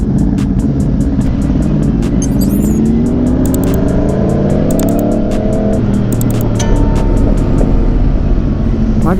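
Car engine revving and accelerating at the start of an Atlanta street race, a loud continuous roar with rising and falling pitch sweeps, steady throughout with sharp clicks on top.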